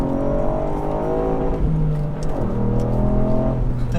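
A Ford Fiesta ST MK8 with a three-cylinder engine drives on a twisting road, its close, loud engine drone rising steadily in pitch, dipping briefly at a shift and climbing again, with no talk.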